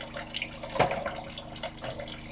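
Water runs from a tap over dishes being rinsed of soap, a steady splashing flow with one brief louder splash, close by and with no talk.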